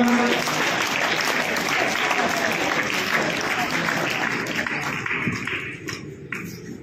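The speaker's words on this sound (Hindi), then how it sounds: "तो उन सभी 9 बच्चों के लिए एक बार जोरदार तालियां।" Audience at a school CBSE results ceremony applauds students: dense, loud, sustained clapping from a large crowd that fills the whole stretch and eases off slightly near the end.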